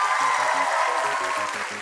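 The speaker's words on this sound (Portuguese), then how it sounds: "Uma salva de palmas aos dois times." A studio audience applauds both teams at the final of a children's quiz contest on a TV variety show, a dense, steady wash of clapping that carries on for the whole stretch, with a low musical backing underneath.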